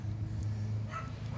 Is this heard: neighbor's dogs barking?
yes